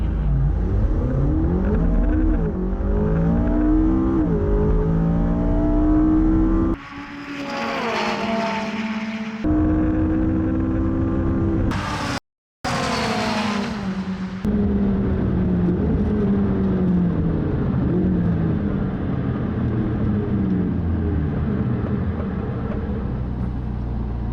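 McLaren cars accelerate hard in a drag race, engines loud and close with rising, repeated gear-change sweeps, a brief cut midway, then the roar continues and fades into a sustained whir. No talking.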